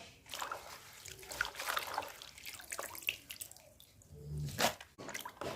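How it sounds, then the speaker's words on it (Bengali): Leaves are washed by hand in a basin of water, with soft splashing, trickling and dripping that comes and goes in quiet bursts nearby. "তাও আরেকটু ভালো করে পরিষ্কার করে ধুয়ে নেব"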